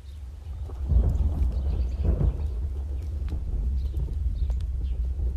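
Rain falls steadily with low rumbling thunder rolling underneath, a continuous wet outdoor wash with heavier swells of rumble early on and no one speaking.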